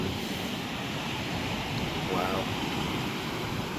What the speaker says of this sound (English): It's actually really windy.